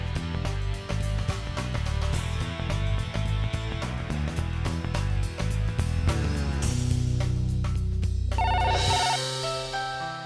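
A telephone ringtone plays as a melodic electronic tune with repeated bright notes over a steady beat, loud and continuous for about ten seconds, alone without talk.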